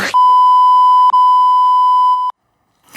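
A steady high-pitched censorship bleep over speech runs for about two seconds, briefly broken once, then cuts off into silence.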